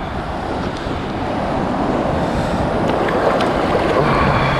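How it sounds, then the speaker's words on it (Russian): Sea waves roll onto a beach at Anapa, a loud, dense, continuous wash of surf with wind buffeting the microphone and no talking. "Сейчас мы зайдем и к волнам."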